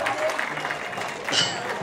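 Attendees at a humanitarian conference applaud announced donations, a continuous rush of clapping from a crowd with voices blended in.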